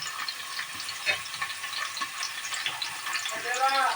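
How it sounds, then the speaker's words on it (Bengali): Oil sizzles and crackles steadily as onions fry in hot oil before beef is added, a close, continuous hiss with occasional stirring noises and no speech. "তেলটা গরম হয়ে গিয়েছে এর মধ্যে পেঁয়াজটা দিয়ে দেবো"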